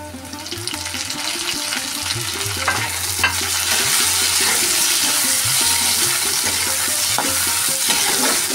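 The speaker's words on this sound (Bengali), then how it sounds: "এখন আমি এখানে টমেটোগুলো দিয়ে দিচ্ছি।" Tomatoes sizzle in hot oil after onions in a pan for fish-head murighonto, with steady frying hiss, a low hum and repeated stirring scrapes throughout at close range.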